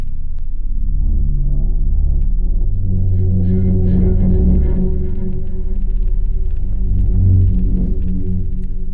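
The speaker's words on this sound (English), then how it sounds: "So for a little more interest, we might add some unison." A thick, low synthesizer tone with unison voices, from the Pigments 4 software synth, drones and shifts pitch, with a slightly detuned, chorused quality and a faint buzzy upper edge, loud and steady.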